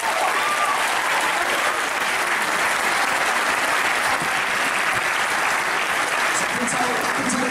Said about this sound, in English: big round of applause for all of our younger cosplayers